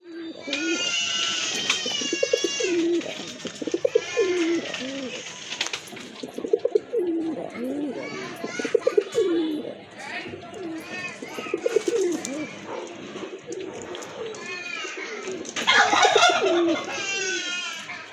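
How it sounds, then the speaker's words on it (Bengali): Domestic pigeons at a market stall selling many local and foreign breeds coo steadily and close by, their low repeated calls running throughout under ongoing human talk, with a few sharper bird calls rising near the end. "এই যে দেখেন আরেক জোড়া কবুতর এটা কিন্তু কাগজি কবুতর না"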